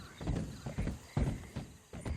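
Horse hooves clip-clop in a steady walking rhythm in the video game Red Dead Redemption 2, with about seven soft, muffled hoofbeats over a quiet background.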